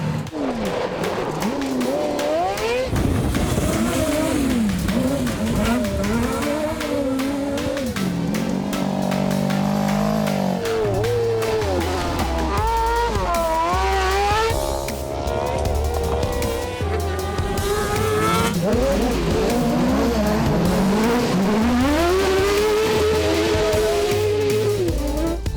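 SCX four-wheel-drive two-seat buggy built with G-Speed, racing around a technical dirt track: a loud engine rising and falling in pitch as it revs through corners and accelerates, continuous throughout.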